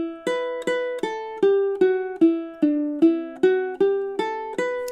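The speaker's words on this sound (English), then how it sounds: "here's me playing this melody in a linear way." Ukulele playing the melody of God Rest Ye Merry Gentlemen one note at a time in low position, about a dozen clear plucked notes at a steady moderate pace, each decaying before the next, close and alone.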